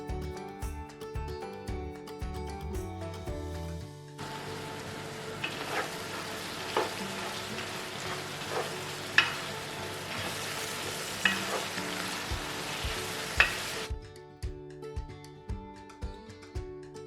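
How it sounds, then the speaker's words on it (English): Lardons sizzle steadily in a pan, a broad frying hiss running between about four and fourteen seconds with sharp spatter pops and stirring clicks, over soft background music. "I'm going to add my lardon in there and I'm going to fry it again for about 3 minutes or so"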